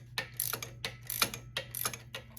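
Box end wrench working loose a tight bolt on an old vehicle frame, giving three sharp ratcheting clicking bursts in a steady rhythm over a low hum, close and fairly quiet.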